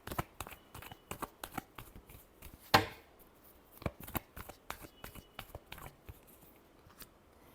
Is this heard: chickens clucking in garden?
no